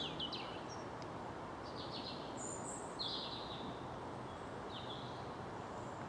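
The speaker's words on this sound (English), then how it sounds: "Predominantly robins." Robins singing in spring woodland near Oxted, with several short, thin, high phrases scattered over a steady broadband hiss of wind or distant traffic, moderately far and fairly faint.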